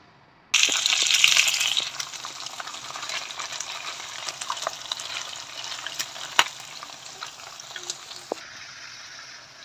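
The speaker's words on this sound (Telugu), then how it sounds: "ఈ చికెన్ అన్నది బాగా ఫ్రై చేసుకోవాలి ఆయిల్లో" Chicken pieces for pickle fry in hot oil, a loud, dense, steady sizzle that starts abruptly and continues close up, with occasional stirring clicks.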